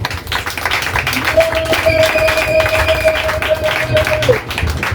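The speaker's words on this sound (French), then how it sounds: "Si vous pouvez l'applaudir, s'il vous plaît." Crowd applauding at a political support meeting, continuous clapping filling the room at close range, with a sustained tone like a whistle or feedback running over it for a few seconds.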